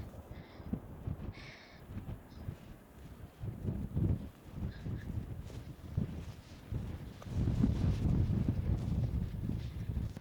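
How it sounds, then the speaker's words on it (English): Strong wind buffets the microphone on an exposed rocky hilltop among old rock-cut houses, with low rumbling gusts that build and swell continuously, loudest toward the end. "the wind is still around. It's really windy."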